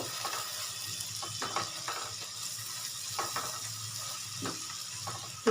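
Masala with salt sautéed in a pan, giving a soft, continuous sizzle with occasional faint spoon scrapes; fairly quiet, with no talking.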